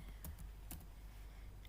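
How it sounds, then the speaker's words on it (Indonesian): Keys clatter on a computer keyboard in a few quick, quiet taps, close by against a steady low hum, while entering commands on the Ubuntu operating system. "Terus saya akan mengetik lagi"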